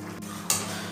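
A utensil scrapes and stirs dried fish curry in a pan, one sharp clatter over a low sizzle, close and brief.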